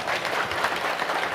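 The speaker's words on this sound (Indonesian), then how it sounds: "Tepuk tangan dulu." An audience at an Isra' Mi'raj religious gathering in Sendang Asih applauds briefly, a soft, even rush of many hands clapping at a distance with no clear voices.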